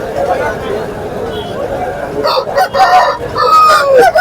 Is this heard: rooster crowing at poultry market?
yes